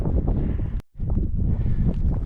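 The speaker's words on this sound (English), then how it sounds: "Windy up here." Loud, steady wind near a mountain summit buffets close to the microphone, a low roaring rush with a brief gap of silence partway through.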